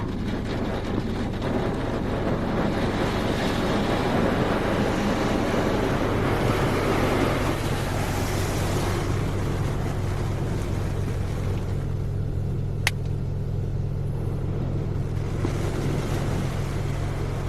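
An automatic tandem car wash at a bargain-priced wash in Plano, Texas sprays plain water over a very dirty car, a steady loud rush and hiss filling the whole stretch, with one sharp click near the end.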